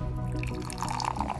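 Soft drink fizzing and bubbling, a close, continuous crackle of carbonation with faint liquid trickling, steady and moderately quiet throughout.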